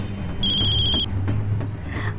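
A phone rings with an incoming call, a bright electronic ringtone tone lasting under a second over a low background hum.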